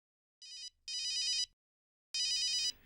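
A phone rings with an incoming call, sounding three electronic bursts of moderate loudness, the second longer than the first, with a pause before the third.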